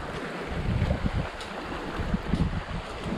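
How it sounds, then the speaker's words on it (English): Gusty wind blowing along the Lake Superior shore in the Porcupine Mountains, Michigan, a steady close rumble with a soft wash resembling waves and no voices. "Pretty windy out here"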